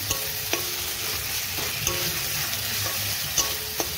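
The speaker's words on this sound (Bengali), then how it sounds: "মশলাকে পেঁয়াজের সাথে ভালো করে ভেজে নেব।" Spices fry with onion, ginger, garlic and chilli in a pan, giving a steady close sizzle broken by a few sharp clacks of a spoon stirring at irregular intervals, with no voices.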